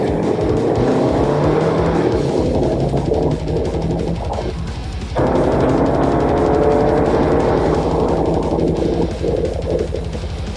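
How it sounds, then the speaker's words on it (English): A lifted SDi Jeep driven hard, its engine roaring loud and close as tires squeal through corners, with a brief dip in the engine note midway before it pulls hard again. "I would never drive a Jeep like that."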